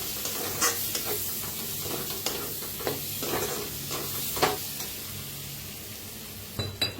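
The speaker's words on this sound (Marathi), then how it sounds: "आता छान भाजा लागलेले आहे टमाटो कांदा" Tomato and onion frying in a pan for a dhaba-style matki curry, with a steady close sizzle punctuated by occasional stirring scrapes and clinks, no voices.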